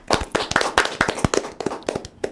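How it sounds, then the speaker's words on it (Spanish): A small studio audience claps at the opening of a Spanish-language talk program, a close, uneven burst of distinct sharp handclaps from a few people for a couple of seconds. "Un aplauso."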